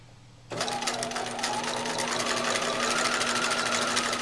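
A sewing machine starts up after a brief quiet moment and runs steadily, stitching a quarter-inch seam through fabric with a continuous close, even buzz and rapid needle rhythm throughout.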